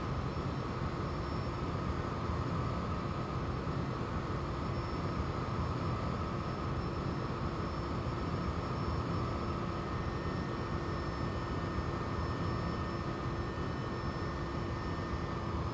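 Continuous engine drone with a steady tonal hum of a Bell 429 helicopter heard from inside the cabin in the X-Plane 11 flight simulator over the Grand Canyon, unchanging and fairly loud.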